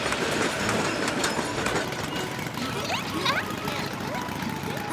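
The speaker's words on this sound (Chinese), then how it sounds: "啊，妹妹，你看，火车来了" A cartoon train pulls in with a broad rumble and rolling clatter, and a few short rising whistle-like tones pass over it while voices talk.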